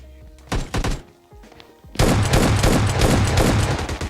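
Gunfire in PUBG Mobile Lite: a few spaced single shots, then a loud continuous burst of rapid automatic fire with no talking.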